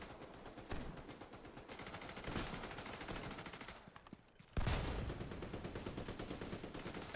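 Sustained automatic gunfire from the video game The Division as the trigger is held down, a dense rattling stream of shots that grows louder after a brief lull, with faint talk underneath.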